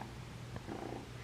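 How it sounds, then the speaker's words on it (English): A young female kitten purrs close by, a soft continuous rumbling with faint rhythmic pulses, quiet and alone. "I don't know if you can probably hear her purring."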